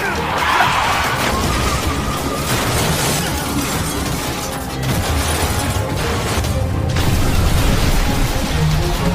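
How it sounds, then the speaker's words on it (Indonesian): On a film road, a car deliberately swerves into the opposite lane and rams oncoming cars, giving loud continuous crashing and scraping with engine roar and skidding, mixed with dramatic soundtrack noise. "dengan sengaja pindah ke jalur berlawanan dan tanpa ampun menabrak semua mobil yang menghalangi jalannya"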